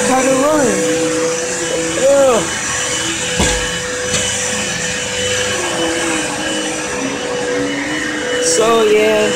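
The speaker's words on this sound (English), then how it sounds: "me vacuuming the room" A vacuum cleaner runs steadily in a room with a constant whining motor drone, while a voice talks over it and the pitch wavers briefly now and then.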